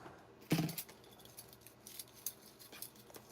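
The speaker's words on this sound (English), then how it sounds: "Again, cut 2 pieces of wire. Man, these cutters are not very sharp." Dull wire cutters snipping through beading wire, giving a sharp close click followed by a few faint, light metallic ticks in an otherwise quiet room.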